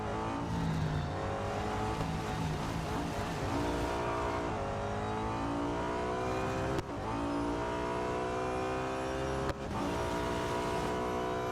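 An Audi A5 DTM race car engine from the 2012 season, heard in the mobile racing game Real Racing 3, roars steadily with rising gear pulls and two brief shift dips, loud and without talk.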